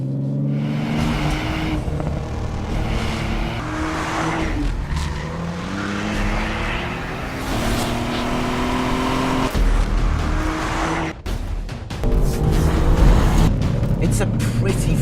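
A Ford Fiesta ST is driven hard along the twisting Via Campocatino mountain road in Italy, with a loud engine revving up and down through gear changes and brief tire skids, and a voice speaking over it.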